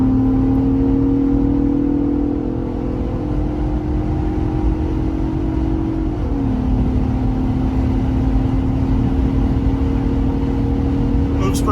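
A 2024 Ford Bronco Raptor, running without an exhaust, accelerates with a steady droning engine note that dips briefly mid-run and then holds; loud and close throughout.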